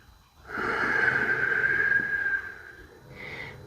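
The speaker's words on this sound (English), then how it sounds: "Breathing in deeply." Deep breathing during a yoga-inspired strength and mobility workout: one long, close, airy breath lasts about two seconds, followed by a shorter, fainter breath.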